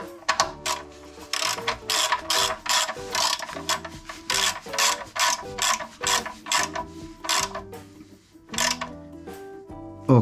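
Ratchet wrench clicking rapidly in repeated bursts while tightening the 12 mm hex oil drain plug on a Lancia Ypsilon 1.2 8v, close and loud with short pauses between strokes.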